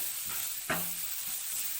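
Garam masala, salt and spices sautéing in a pan for egg kothu chapathi, a soft steady sizzle with a brief scrape of stirring near the middle, fairly faint and close.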